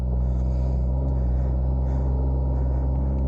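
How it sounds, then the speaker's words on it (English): A snowmobile engine runs steadily with a deep, continuous droning rumble while riding around an island, loud and close throughout with no speech. "riding her own snowmobile"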